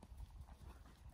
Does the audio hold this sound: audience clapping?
no